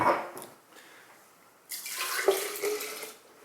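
Water pours from a container as simulated wine, starting faint and splashy, then a fuller, steady gurgling stream for about a second and a half that tapers off, close by with no talk.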